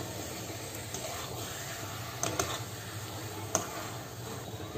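Paneer gently stirred into fried masala in a kadai: a soft, steady sizzle with a few light scraping clicks of the spoon, fairly quiet and without speech.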